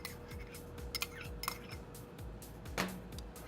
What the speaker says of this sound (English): let's go ahead and add our peas to the pot.